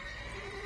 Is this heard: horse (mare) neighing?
yes